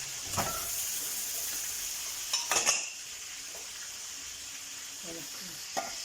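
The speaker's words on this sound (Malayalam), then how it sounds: "ചിക്കനിട്ട് നല്ല രീതിയിലൊന്ന് ഇളക്കി മിക്സാക്കി എടുക്കുക" Chicken pieces tossed with spice powders in a frying pan for an Arabic chicken madhruba, a steady close sizzle with a few sharp scrapes and clatters of the spoon against the pan, no talking.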